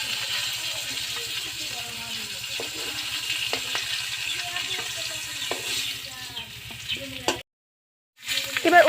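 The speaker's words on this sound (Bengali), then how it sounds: "তো দেখো মাছ ভাজি করা হচ্ছে, প্রায় হয়ে এসেছে মাছ ভাজা।" Fish frying in oil in a pan, almost done, with a continuous close sizzle and a few stirring clatters; the sound cuts out briefly near the end before returning.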